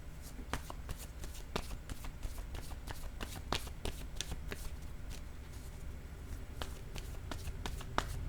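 Tarot cards being shuffled by hand, a steady run of crisp riffling flicks and soft slaps close up, with a quiet room hum underneath and no talking.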